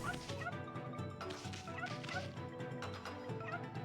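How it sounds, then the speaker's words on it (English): A cartoonish puppy in a video game yips and barks repeatedly in quick bursts, fairly faint, with game sounds around it and no talking. "Oh, it's a little puppy!"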